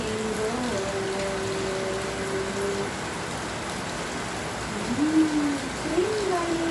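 Steady rainfall hisses as a broad, even wash throughout, with faint tonal sounds drifting over it and a few brief swells near the end.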